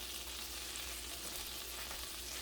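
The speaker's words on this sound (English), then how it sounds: "I'm going to only put 2 of them in there at a time to sear them off" Two large pork chops searing in a hot pan, giving a steady, loud sizzle and fry hiss with no break and no voices.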